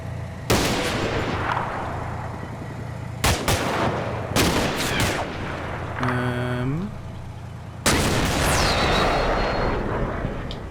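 Anti-tank guided missile launches and heavy blasts in the Combat Mission: Cold War war game, several loud broadband bursts with a whining sweep in between, over a steady low rumble and some voices.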